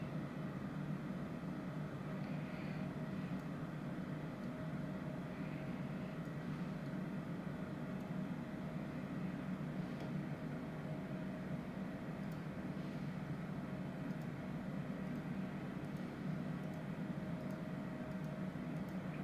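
A Cessna Citation CJ4 business jet's engines run at 99% power in Microsoft Flight Simulator, producing a steady, even broadband roar and hum that holds unchanged throughout, with no voices.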